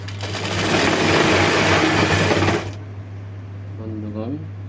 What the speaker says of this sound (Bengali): এভাবে সোজা সেলাই